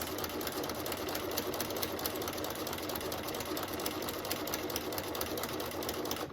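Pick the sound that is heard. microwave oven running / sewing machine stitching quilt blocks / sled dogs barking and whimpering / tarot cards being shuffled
sewing machine stitching quilt blocks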